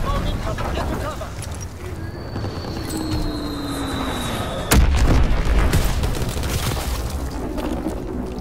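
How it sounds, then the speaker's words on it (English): A single loud bomb explosion in Call of Duty WWII: a sudden boom lands partway through after a descending whistle, set against constant battlefield rumble and game voices. "Enemy bomb incoming."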